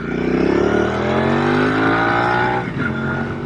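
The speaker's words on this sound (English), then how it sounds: "we'll wait till this truck goes by" A truck passes close by on a paved road, its engine drone rising and sliding in pitch as it goes past, loud and steady with a small dip near the end.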